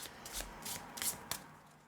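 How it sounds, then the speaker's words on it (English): A deck of tarot cards shuffled by hand during a pick-a-card reading, giving several quick riffling bursts and soft rubbing of card against card, close and quiet, with no talk. "So I will just be doing some minor shuffling to pick out your cards"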